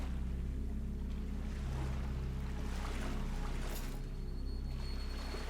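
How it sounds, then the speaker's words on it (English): Waves washing against rock in the game Salt and Sanctuary, a steady, dense rush of surf and water with a low rumbling undertone, continuous and unbroken throughout. "I awoke to the sounds of waves washing on rock"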